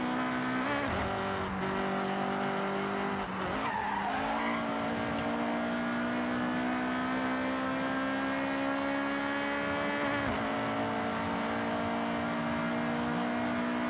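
A race car engine in the video game Forza Horizon 6 drones at high revs, rising briefly in pitch early on and then holding a steady, loud whine for the rest of the stretch.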